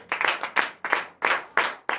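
A congregation at a Friday morning prayer service in Benin claps in rhythmic unison, with bright, crisp bursts arriving in a steady beat of about three per second, close and loud, with no talk over them.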